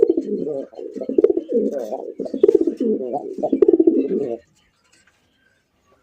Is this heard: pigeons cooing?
yes